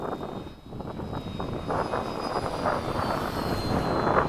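Radio-controlled FMS 70mm model F/A-18 jet taking off at a flying field, a loud steady whine and roar from its engine that rises and builds over several seconds, with no talking.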